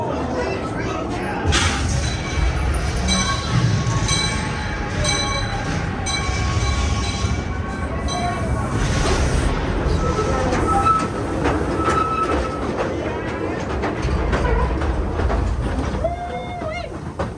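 The Calico Mine Ride train at Knott's Berry Farm rumbles steadily along the tracks with clattering wheels and metallic squeals, loud and continuous, with voices faintly mixed in.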